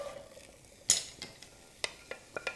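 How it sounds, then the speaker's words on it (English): Chopped carrots, onion and garlic tipped into a soup pot for Greek lentil soup, making a few sharp, close clinks and scrapes of utensils against the pot, spaced apart over a quiet kitchen background. "I have some chopped up carrots, a chopped up onion, and chopped garlic in here, and that's gonna go into our pot all together"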